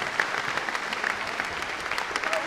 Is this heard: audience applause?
yes